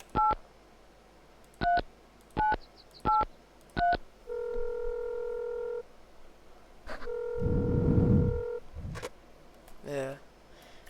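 Telephone keypad tones beeping in a quick series of separate presses inside the video game Mon Bazou, followed by longer steady dial tones, with a low rumble swelling under the second tone.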